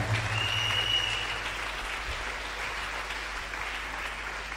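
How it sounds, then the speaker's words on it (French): A church congregation applauding in praise of the Lord, a steady sustained wash of clapping hands throughout the hall, no voices over it. "Oh, acclame le Seigneur."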